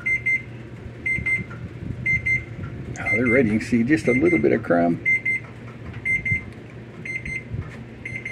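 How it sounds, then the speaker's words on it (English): A kitchen oven timer beeps in short, regular bursts about once a second while yam muffins bake, the beeps pausing under a stretch of close talk and then resuming. "my timer going off"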